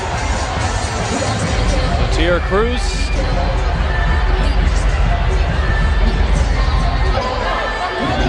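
A crowd roars and murmurs throughout a WNBA basketball game in an arena, loud and sustained, with a commentator's voice over the cheering.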